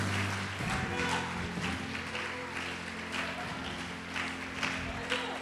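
A church congregation claps and praises together during a sermon, a busy patter of hands under raised voices and sustained keyboard tones, moderately loud and continuous throughout.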